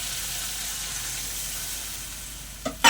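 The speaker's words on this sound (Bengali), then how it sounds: "মশলা থেকে তেল ছেড়ে দিয়েছে। এবার আমি পরিমাণ মতো জল দিয়ে দেবো।" Water hits cooked masala that has released its oil, for a fish curry, and a continuous bright hiss of sizzling fills the pan, followed by a short utensil clatter at the end.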